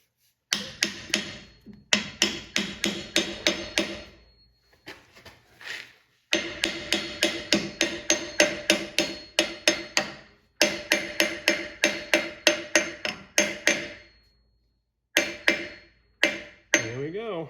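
Rapid metallic hammer strikes drive a bearing buddy onto a trailer wheel hub, falling in quick rhythmic runs of ringing blows separated by short pauses, close and loud.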